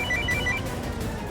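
A telephone ringing with a short repeated electronic ring pattern, loud and close, fading after about half a second under other sound.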